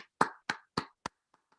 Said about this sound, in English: you have someone else who's clapping on beats 2 and 4